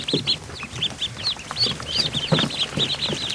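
Day-old Muscovy ducklings in a barn give a close, busy chorus of high, rapid peeps and chirps, with occasional lower clucking calls from other fowl mixed in. No one speaks.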